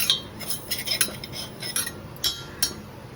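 Peanuts roasting in a pan are stirred with a metal spoon, producing close, repeated scrapes and clinks against the pan in an uneven rhythm, with no voices.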